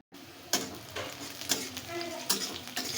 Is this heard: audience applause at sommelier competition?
no